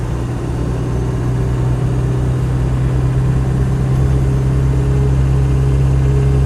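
A Land Rover 90 with a 200TDi diesel engine accelerates, giving a loud steady drone with a constant whirring tone running underneath.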